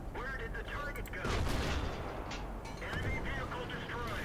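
Tank guns firing at enemy artillery in World of Tanks, heavy booming shots and rumbling impacts in the game mix, with a voice talking over the battle sounds.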